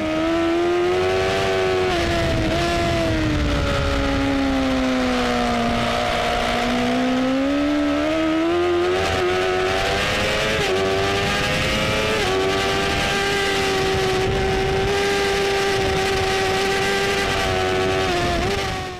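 A motorcycle engine on the Pembrey circuit drones loud and continuous as the rider holds and rolls on the throttle, the pitch dipping and then climbing in smooth sweeps with occasional gear changes.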